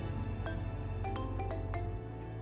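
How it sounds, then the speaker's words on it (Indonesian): A phone ringtone chimes in a short series of bright, evenly spaced electronic tones over a steady low hum, with no talking. "Ada telepon tuh."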